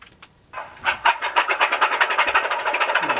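Diesel locomotive train passing close by, a loud rhythmic clatter of wheels over rail joints that sets in abruptly and carries on in quick regular beats, with no voices.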